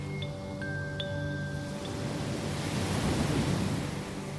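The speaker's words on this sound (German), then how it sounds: "Am Ufer vom Meer." Ocean surf washes steadily against a seashore, a continuous broad rushing wash that swells slightly toward the end, with faint thin tonal chimes layered above it.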